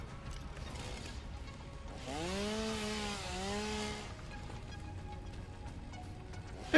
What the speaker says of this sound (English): Yes, yes, yes, I know, it's a chainsaw.